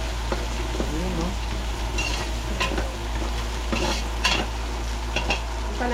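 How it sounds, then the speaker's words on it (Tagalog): Beef sautéing in a hot pan with star anise, a steady sizzle under repeated stirring and scraping of a utensil against the pan, a low hum beneath, and occasional faint voices. "Gisa natin yung beef."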